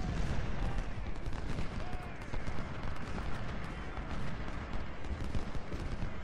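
Cannon and musket fire in Ultimate General: Civil War at the Battle of Stones River, with a dense, continuous rumble of booming artillery and crackling volleys that holds steady throughout.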